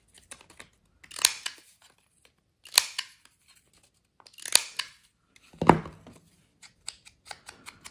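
Scissors snipping the corner of a small paper card for a junk journal, four short crisp cutting bursts spaced about a second apart with faint paper rustles between, close and alone.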